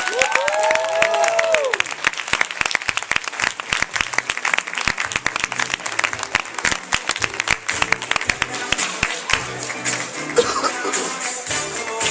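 An audience gives loud, sustained applause with some cheering and whoops. Sharp individual claps stand out from the crowd, and a voice calls out near the start.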